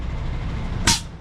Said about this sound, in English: Checking brakes